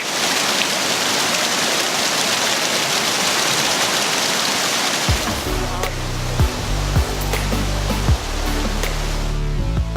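Kuang Si waterfall in Laos roars as a steady, broadband rush of falling water, loud and continuous throughout, with low voices and busy crowd activity from hikers surfacing in the second half.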